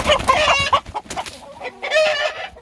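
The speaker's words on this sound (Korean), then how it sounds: "어, 암탉하고 수탉하고 싸우네" Hens and a rooster fight, squawking and clucking in a loud, agitated burst, with harsh crowing-like calls breaking off and returning, close by.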